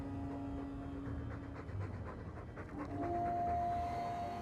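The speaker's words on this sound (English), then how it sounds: "All that noisy dog breath, day in, day out." A dog pants quietly and steadily in a stuffy room, a faint rhythmic breathing over low background hum with a thin tonal whine near the end.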